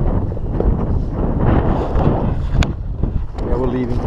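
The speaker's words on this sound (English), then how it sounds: "The wind's picking up." Wind blowing across open ice on Green Bay during an ice fishing outing, a steady broadband rush with gusty swells throughout, close to the microphone, with people talking over it.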